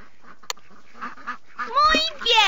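Baby ducks in a Dora the Explorer video game give a few cartoonish quacks, rising in loudness toward the end, after a brief click and some soft game sounds.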